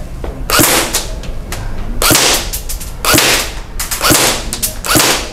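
An MP5 submachine gun, a suppressed SD model, fires in repeated loud bursts of sharp cracking shots, several rapid strings separated by short pauses, heard close up with no talking over them.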